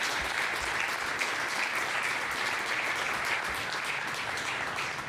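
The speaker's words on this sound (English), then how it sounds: "So if we could just give you a quick round of applause" Sustained audience applause at a press conference for the 2019 Ron Newman Cup championship, even and dense clapping that continues throughout the clip.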